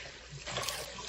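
Vinegar water pours and splashes off rinsed oxtails as they are drained, a short, soft burst of running liquid that swells midway.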